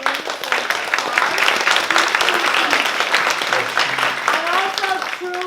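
An audience applauds the youth at an evening presentation, with steady broadband clapping filling the room throughout, a few voices and cheers mixed in beneath it.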